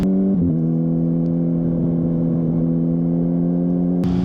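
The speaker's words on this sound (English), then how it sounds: "I have that backpack just because I want to record the exhaust sound." A 2024 Honda CBR 600 RR motorcycle fitted with an Akrapovic exhaust drones at a steady, close, loud idle-to-cruise note, with a brief pitch dip near the start and no talking.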